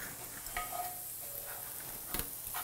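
A wooden spoon stirs food in a pan over a quiet background sizzle, with light scrapes and a sharper knock near the end.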